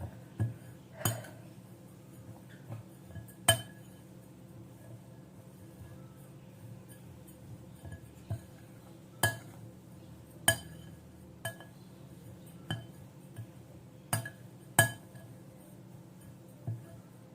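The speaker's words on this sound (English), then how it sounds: "So now I'll just mix them up. with a spoon, of course." A spoon stirs homemade bird pellet ingredients in a bowl, giving scattered sharp clinks and taps against the dish at an irregular pace over a quiet background, close by.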